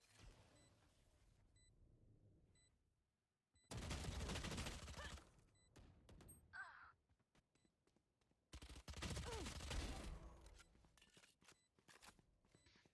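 Gunfire in Valorant during a competitive match comes in two loud bursts of rapid shots separated by quieter stretches of ticking game sounds and sparse single clicks.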